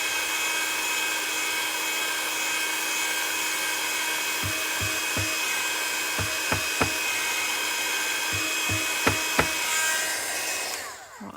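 A heat tool blows continuously on embossing powder with a steady, fairly quiet whooshing whir. A few soft clicks and knocks sound in the second half before the blowing cuts off at the end.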